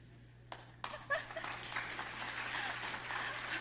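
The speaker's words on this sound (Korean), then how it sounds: "이런 환호를 기대한 건 아닌데 감사합니다." Applause and scattered cheers break out from an audience at a Won Buddhist temple faith-practice testimony, starting as a few sharp claps and swelling into a steady, moderately distant ovation.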